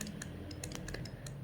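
Computer keyboard keys tapped in a quick, irregular burst of light clicks while code is typed, close and fairly quiet, with no voices.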